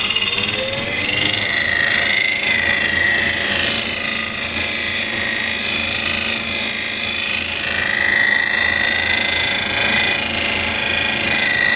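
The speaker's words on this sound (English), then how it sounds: "That's why we like to sand in reverse as well." A power sander runs continuously in reverse over a wood surface, a loud, steady whine with rasping grit that holds throughout without pauses.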